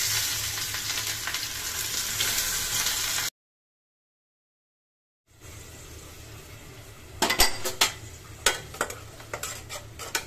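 Pieces of rohu fish fry in hot oil in a home kitchen pan, a steady close sizzle that cuts out for a moment, then returns with several sharp clinks and scrapes of a utensil against the pan.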